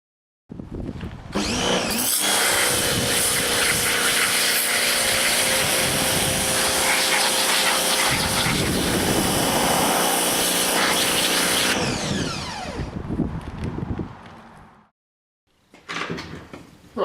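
Pressure jet washer blasting a rusty metal angle plate, a loud, steady hissing spray lasting about ten seconds, then dropping off into brief clatter and a short second burst.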